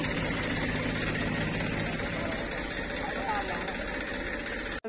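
A tractor engine runs steadily at a village tug-of-war event in Nayan village, a continuous low rumble that fills the whole stretch at moderate volume, with crowd voices mixed in and a brief dropout near the end.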